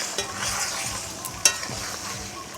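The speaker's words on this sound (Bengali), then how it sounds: "ফুলকপি দিয়ে এবার হালকা করে আমি একটুখানি নাড়াচাড়া করে দেবো" Fried cauliflower is gently stirred into a masala in a pan, with a low steady sizzle, soft repeated scraping strokes and one sharper clink of the spoon, heard close with no talking.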